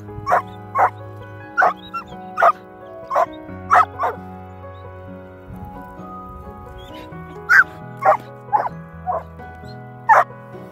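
Collies on an early morning walk bark in short, loud, evenly spaced volleys, a couple of clusters of repeated barks close by, over a steady low background with a lull in the middle.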